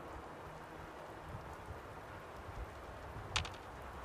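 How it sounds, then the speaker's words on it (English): Steady rain falls in Fallout 4 as a soft, even wash that runs the whole time, with a brief sharper splash or knock near the end. "Hope this rain lets up soon."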